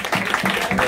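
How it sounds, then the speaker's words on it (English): A crowd claps for a birthday at a holiday spot in Mombasa, a quick patter of overlapping handclaps that runs steadily throughout. "People are clapping."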